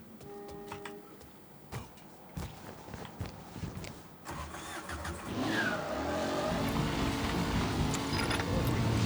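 In the Mafia III video game, a boat engine cranks and catches, then its motor rises into a steady, building drone after a few clicks and knocks, fairly close and moderately loud.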